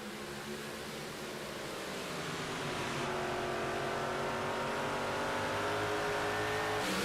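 Race cars accelerating on the Bristol Motor Speedway oval in the iRacing sim during a Super Dirt Car Series heat race, a dense sustained engine roar building steadily louder, several cars blended together without talk.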